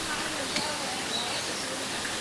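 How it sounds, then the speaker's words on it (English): Steady, broadband rush of water from a 30-metre-tall man-made waterfall inside a bird park aviary, a continuous even wash with faint chirps of birds scattered through it. "You can already hear the flowing water as we see the waterfall that makes this aviary quite famous."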